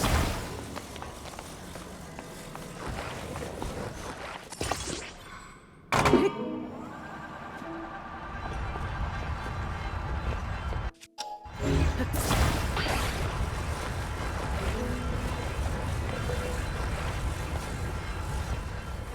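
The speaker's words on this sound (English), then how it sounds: "Okay, let's take this elevator" An elevator ride in Zelda: Tears of the Kingdom plays as a low rumbling mechanical drone with heavy thunks and abrupt cutoffs, a steady hum that stops and restarts with a loud clunk, and no speech over it.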